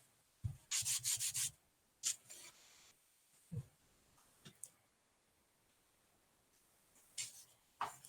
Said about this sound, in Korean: 이렇게 있는 부분은 좀 더 사포로 이렇게